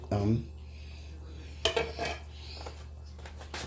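A spoon clinks and scrapes against a bowl while paprika-reddened macaroni is blended, a few short clatters after a brief quiet stretch, close up with no talk.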